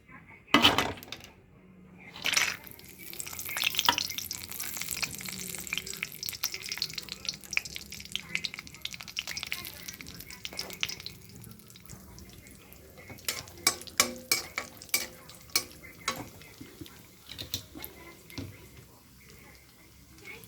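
Cashew nuts fry in hot ghee for semiya kesari, a soft, low sizzle under scattered spoon clinks and scrapes against the pan, with occasional sharper metallic taps.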